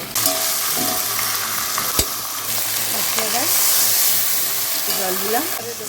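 A fish head fries with chopped tomato, ginger, garlic and spices for Bengali muro ghonto, making a loud, steady close sizzle with repeated scraping stir strokes throughout.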